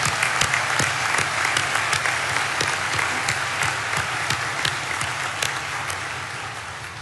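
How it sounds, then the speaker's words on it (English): Applause fills the hall at the Dakota State University graduation ceremony, a dense steady clapping from a large audience that holds level for about seven seconds before slowly tapering. "Let's have a round of applause for all 4,"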